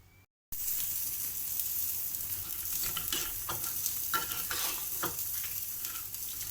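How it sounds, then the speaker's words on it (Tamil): Boondi stirred into hot ghee for laddu, giving a steady close sizzle with scraping strokes from the spoon that grow busier midway, with no voices. "இப்போ வந்து இந்த நெய்யோடையே இதில் கொட்டி கிளறிடலாம்"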